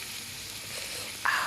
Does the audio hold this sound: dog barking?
no